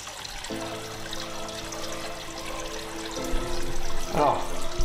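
Water pours into a 300-litre aquascape aquarium tank during maintenance, a steady broad rush with a low sustained hum, growing a little louder near the end with a brief gurgling splash.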